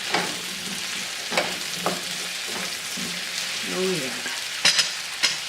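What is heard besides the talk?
butter sizzling in olive oil in a pan, stirred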